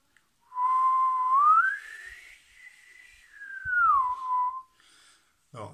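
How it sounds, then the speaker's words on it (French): A clear whistled tone sliding up in pitch, holding, then gliding back down, alone in a quiet room, with a few soft clicks near the end. "c'est comme quand on siffle."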